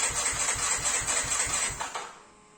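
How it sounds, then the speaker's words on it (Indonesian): A motorcycle's electric starter cranks in a steady, rapid chugging rhythm for about two seconds without the engine catching, then cuts off into quiet. "Terus kalau kita starter pun dia nggak mau nih."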